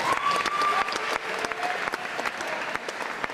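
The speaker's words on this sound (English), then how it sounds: "Let me clap for them one more time" Audience at a school all-sports recognition event applauding the varsity baseball seniors, a dense, sustained burst of clapping filling the room from start to finish with no talk over it.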